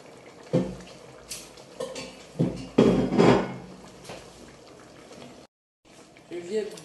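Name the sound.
stirring ndolé with meat in a cooking pot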